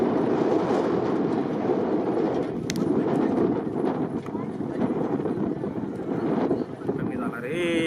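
Bullock carts race at a bullock-and-horse racing ground in Ankawade, with the bulls' hooves pounding at a gallop. The hoofbeats run continuously, partly masked by loud crowd noise, voices and wind buffeting.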